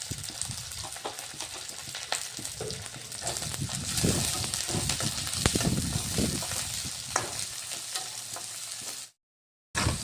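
Onion, chili and ginger-garlic paste fry steadily in a pan, a dense continuous sizzle with occasional stirring scrapes, fairly close, cutting out briefly near the end.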